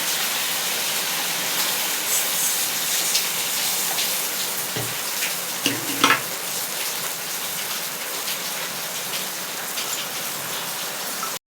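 Water poured into a fish curry masala frying in oil, a loud continuous hissing sizzle with a few sharp spatters midway, no talking.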